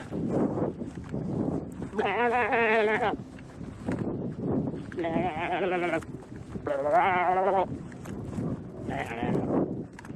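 Three or four loud, wavering sheep bleats ring out close by at irregular intervals, with heavy breathing and rustling movement in between.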